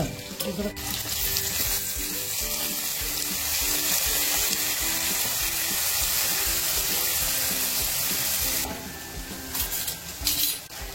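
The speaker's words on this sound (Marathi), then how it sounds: "मीठ टाकलं चवीनुसार, आणि चांगलं फ्राय करून घ्यायचं, हलवून घ्यायचं।" Fish curry with chilli, garlic and turmeric frying in a village kitchen, giving a continuous sizzling hiss close by with occasional stirring scrapes and faint voices in the background.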